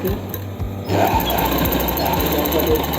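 A sewing machine stitches the leg seam of palazzo trousers, a fast rhythmic mechanical chatter that starts quietly and grows louder and denser after the first second, running continuously.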